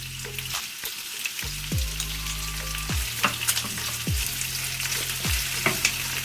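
Thinly sliced onions sizzle in a pan for a brinjal curry while a spoon stirs them in repeated scraping strokes about once a second over a steady frying hiss, close up and without talk.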